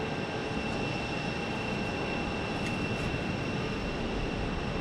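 An airplane at Phoenix airport heading toward the south runway, heard as a steady broadband engine roar at moderate distance throughout, without talking.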